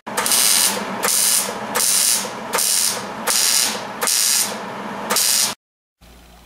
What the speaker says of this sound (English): So I'll weld that up now and then grind it down.